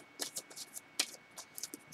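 Tarot cards being shuffled by hand, with soft, quiet riffling and flicking in short irregular bursts, close up and without talk.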